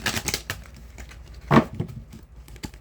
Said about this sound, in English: Hold on, I can't shuffle like that. Let me shuffle off camera.